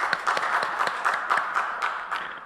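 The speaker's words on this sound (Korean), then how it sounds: "하나님께 영광의 박수하겠습니다." Congregation applauding during an online Sunday church service, a short burst of rhythmic, fairly even clapping heard clearly on its own without talk.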